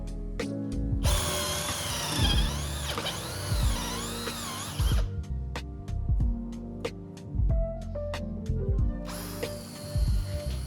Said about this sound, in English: the only other solution I found was to use a hole saw and remove the excess with a flat drill